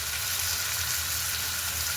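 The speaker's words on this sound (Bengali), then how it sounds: "আলুটা দেওয়ার পরে আরও কিছুক্ষণ কষে নেব" Boiled potatoes with turmeric and spices are stir-fried in a pan for a Bengali cauliflower curry. A steady, dense sizzle holds at an even level, close and fairly loud, with a low hum beneath and no talking.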